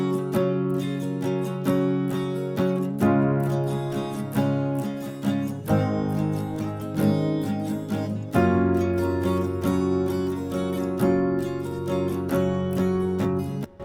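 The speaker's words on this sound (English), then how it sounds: "after this point I wanted to add some keys, especially some piano" Piano keys layered over guitars in a pop ballad verse, steady chordal playing with repeated attacks across the passage, mid-level and without any voice.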